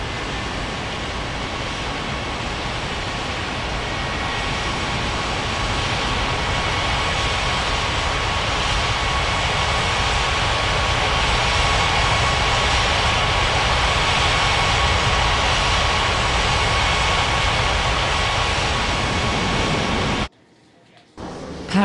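Aircraft engines roar in the Unmatched Air Traffic Control game, a loud steady jet rumble at Paradise Island International that holds throughout and then cuts off near the end.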